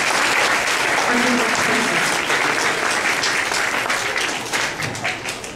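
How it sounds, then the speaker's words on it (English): Steady, loud applause fills a school scholar-of-the-month gathering as honored students walk back to their seats, dense clapping that tapers slightly near the end, with faint voices mixed in. "One more round of applause as they walk back to their seats."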